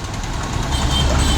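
Bus 0254 pulls away from a stop on the Guntur route, its engine giving a close, rough rumble that builds slightly over a brief moment.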